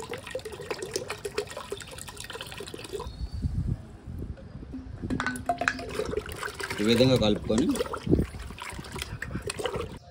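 Diluted organic liquid fertiliser (jeevamrutham or gomutram) trickles and splashes intermittently onto plants and soil, with rustling handling noises and a person speaking briefly in the middle.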